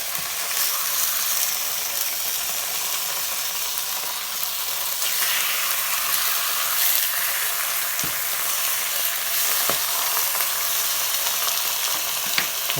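An entrecôte steak sears in a very hot pan with garlic and shallot, giving a loud, steady sizzle and spitting hiss with occasional sharper pops and clicks throughout, no voices.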